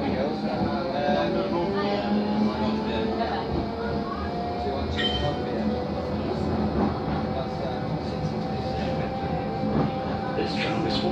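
A Blackpool tram runs along its rails with a steady rumbling roll and faint wheel squeals throughout, heard from on board with a constant cabin hum.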